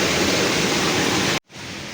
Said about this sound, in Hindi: ये बिल्कुल छोटा नाला है जो तकरीबन बंद रहता है, पानी नहीं होता है जब तक बहुत तेज़ बारिश ना हो।